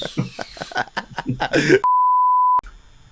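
A phone gives a single steady electronic beep lasting under a second, loud and clear right after someone speaks, with a voice briefly before it.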